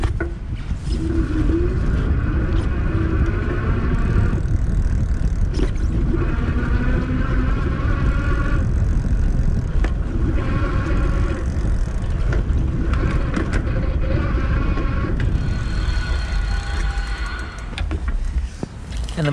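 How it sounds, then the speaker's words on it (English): A Surface 604 Rook e-bike ridden on pedal assist 5, its motor giving a steady whine under loud, constant wind rush, with no talking. "I'm gonna use pedal assist 5 and show you how this responds, how quickly the motor activates and then cuts out when I stop pushing"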